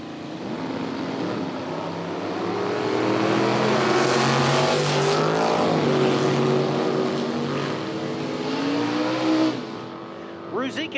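Drag racing at an IHRA Outlaw Nitro Series event, a third-generation Camaro and an early Duster, engines roaring and swelling in a loud sustained run, with an announcer talking over the noise.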